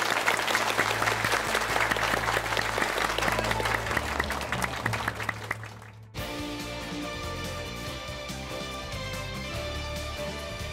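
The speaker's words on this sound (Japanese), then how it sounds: "お二人に大きな拍手をもう一度お願いします" Applause from an audience at a Yu-Gi-Oh! Duel Links exhibition match, loud sustained clapping for about six seconds that fades, then cuts to music.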